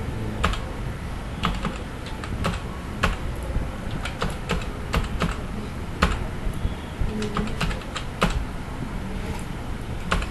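Rapid typing on a computer keyboard during data entry in Microsoft Access, with a steady run of close, crisp key clicks and occasional louder strokes, and no talk over it.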